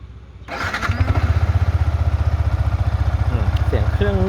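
A 2019 Yamaha R15 motorcycle engine cranks and catches after a brief quiet moment, then settles into a steady, close, rapid idle thump.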